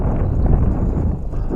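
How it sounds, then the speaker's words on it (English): Hard wind buffets the microphone outdoors at a lake, a dense low rumbling roar that stays steady and loud for the brief stretch. "not feeling it with this hard wind"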